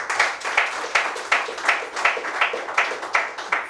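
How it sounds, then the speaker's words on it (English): An audience at an event marking a fiftieth program applauds, many hands clapping together in a dense, lively patter with rhythmic surges, fairly loud and continuous. "give him a real loud applause"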